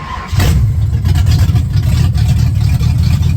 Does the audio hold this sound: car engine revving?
yes